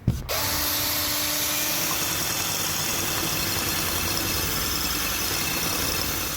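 Power drill fitted as a whisk and beating egg whites aboard an electric houseboat: a steady, loud, high motor whine runs without a break after a brief start-up, with no talk.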